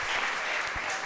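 A church congregation applauding during worship, a brief burst of dense, steady clapping from many people in the room, moderately loud.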